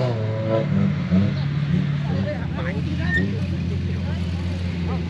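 A Chevrolet Tracker 4x4 working across the Ferradura sand dune, its engine a steady low hum and drone while onlookers talk and shout excitedly over it.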